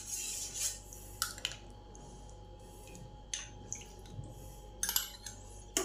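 Yogurt is whisked into fermented rice water for Tanka Torani, a Puri Jagannath temple drink, giving faint intermittent clinks and wet scraping strokes against a bowl over a steady low hum.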